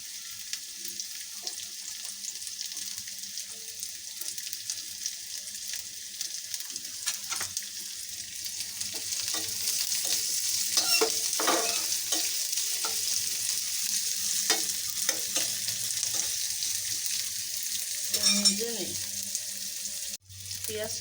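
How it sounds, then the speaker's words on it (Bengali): Onions fry with green chili in a pan for a golsa fish curry, a soft continuous sizzle broken by scraping stirs that grow a little louder partway through, with no talk. "পেঁয়াজটা হালকা ভাজা হয়ে গেছে"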